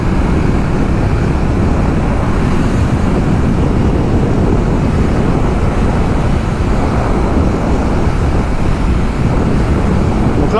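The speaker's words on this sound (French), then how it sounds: "on prend du vent dans la tronche, c'est normal" Heavy, continuous wind roar buffets the rider of a CFMOTO 800 NK Advanced motorcycle at fairly high speed, loud and unbroken, with road and engine noise blended underneath.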